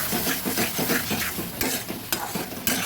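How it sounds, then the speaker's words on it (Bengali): Sliced snake gourd is stirred in a pan with turmeric to dry it out, giving repeated scraping, rubbing strokes over a soft sizzle, close and steady. "ভালোভাবে নেড়ে শুকিয়ে নিতে হবে।"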